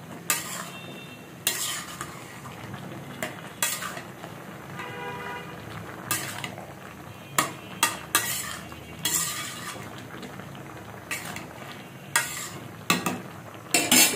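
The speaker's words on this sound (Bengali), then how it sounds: "লাউটা একটু নেড়ে দিচ্ছি।" Bottle gourd, nearly cooked, stirred in a pan: repeated metal scrapes and clanks of a spatula against the pan come in irregular bursts over a soft steady sizzle, with no talking.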